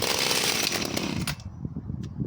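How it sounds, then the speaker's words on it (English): A vintage British Danarm 1-36 MK3 34cc top-handle chainsaw roars loudly close by as it starts, then abruptly cuts out to a low sputtering idle with a few brief rattles. "it's always been the same for starting this saw"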